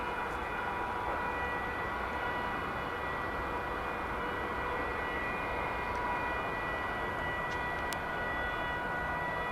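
A UPS Boeing 747 cargo plane taxis out at DFW airport on a chilly December morning, a steady, loud jet engine whine and roar holding constant throughout with no speech.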